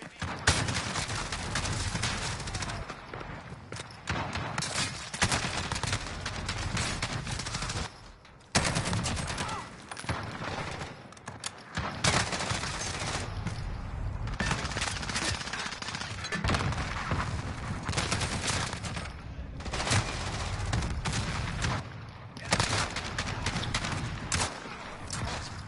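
Dense, continuous gunfire from an unseen shooter in a video game, rapid shots and bursts packed together at close range and fairly loud throughout, with a brief lull partway through.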